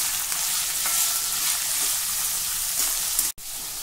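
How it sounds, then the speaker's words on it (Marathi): Mixed vegetables sauté in a hot pan with oil, giving a loud, steady sizzle and frying hiss that runs throughout, with a brief break near the end. "ज्या प्रकारे आपण बटाटा पोह्यांसाठी बटाटा परतून घेतो त्याच प्रकारे हे सर्व भाज्या आपल्याला परतायच्या आहे।"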